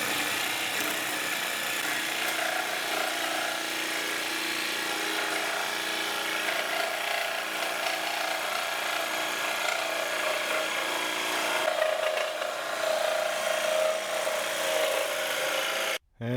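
Steady, continuous sawing through PVC pipe while cutting a circle out, a broadband rasp running unbroken at fairly even loudness for most of the clip before stopping abruptly near the end.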